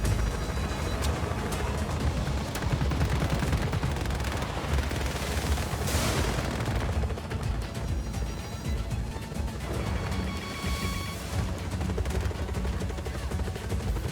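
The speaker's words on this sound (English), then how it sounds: "Who's doing the shooting?" A continuous barrage of gunfire and rumbling blasts in Just Cause 4 gameplay, a steady roar of overlapping shots and explosions with no pauses.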